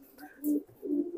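Merpati telo pigeons cooing softly: two low, rounded coos close by, with faint higher chirps in a quiet background.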